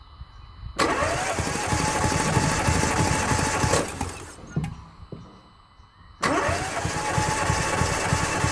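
Renault 1.2 TCe 130 petrol engine cranking on its starter motor during a cylinder compression test, two loud sustained bursts of rapid rhythmic churning separated by a short pause, close up.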